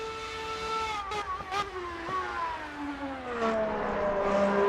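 A high-pitched whining Formula 1 V6 race engine in a racing video game drones steadily, its pitch dipping and climbing through gear changes, with a couple of brief clicks along the way.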